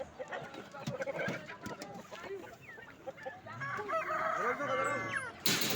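Chickens and roosters cluck and crow at a busy poultry market in Konya, Turkey, with overlapping calls, a crow rising toward the end and people talking nearby.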